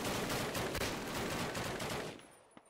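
Rapid automatic gunfire in Call of Duty's British campaign epilogue at the V-2 rocket site rattles as a dense, loud burst that tapers off, followed by a couple of separate shots near the end.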